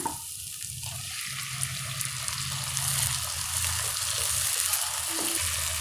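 Onions and tomato with ginger-garlic paste sautéing in a pan for egg kothu chapathi, a steady, close sizzle and hiss running continuously without pause, with no talking.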